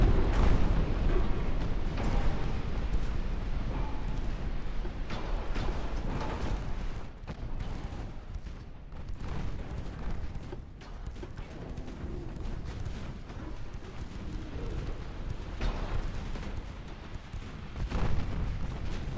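Torpedo strikes on warships in Ultimate Admiral Dreadnoughts, with repeated deep booms and rumbling impacts over a continuous naval battle din.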